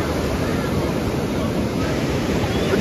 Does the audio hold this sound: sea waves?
yes